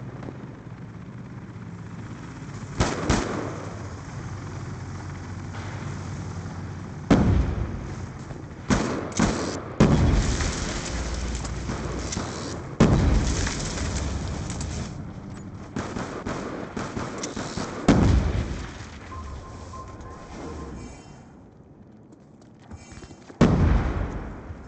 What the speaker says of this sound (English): Friendly lightning strike inbound.